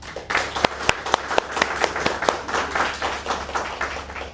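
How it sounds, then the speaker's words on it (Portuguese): A corporate audience at a Brazilian company event gives applause, with sharp individual claps standing out over a continuous crowd clapping texture, fairly close and lively for the whole stretch. "eu gostaria de uma grande salva de palmas de todos vocês pela ideia"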